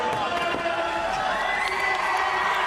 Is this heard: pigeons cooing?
no